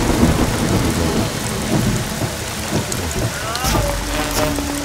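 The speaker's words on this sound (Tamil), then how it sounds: "மழை இருக்கு" Heavy rain pours steadily with rolling thunder rumbling low throughout, loud and close, and a brief sharp crack of thunder near the end; a voice is faintly present under the storm.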